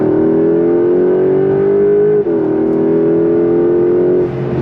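A 2025 Porsche 911 Carrera GTS T-Hybrid engine pulls hard on throttle, heard from inside the cabin as a loud, smooth, rising drone that briefly dips at a gear change before climbing again.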